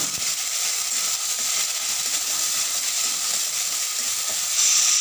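Chopped onion fries in hot oil with Bengali five-spice tempering, a steady close hiss of sizzling that runs unbroken and fairly loud, with no voices.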